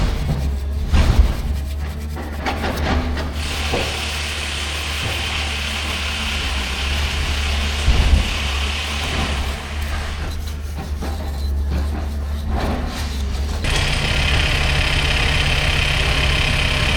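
A pump runs steadily at a yard after a seal has been fitted, giving a constant low engine-like hum that carries on under brief clunks and handling noises, growing slightly louder near the end.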